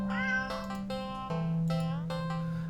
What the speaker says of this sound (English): And again, it is a cat.